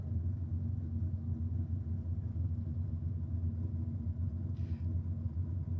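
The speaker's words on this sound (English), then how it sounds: "the cars are still running down below us, as we can hear" Steady low rumble of drag racing cars running on the track below at night in Sydney, a continuous heavy drone with no talking.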